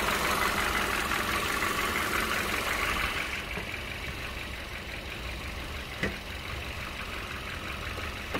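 A steady, low engine hum from a Kia K3 or Hyundai Avante car idles evenly throughout, dropping slightly in level partway, with a couple of faint clicks.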